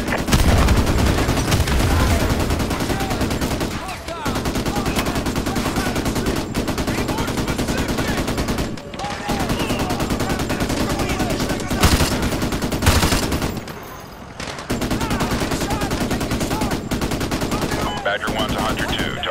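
Heavy automatic gunfire rattles almost without pause during an attack on a target in the Call of Duty Modern Warfare 2 campaign, dense loud bursts with brief gaps, a few heavier blasts, and faint radio chatter beneath.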